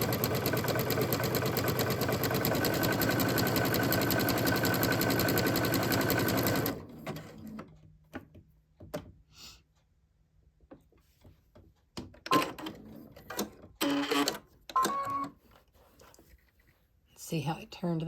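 A sewing machine runs steadily through a zig-zag satin stitch for several seconds, then stops as the presser foot is raised to turn a corner, leaving scattered clicks and handling noises.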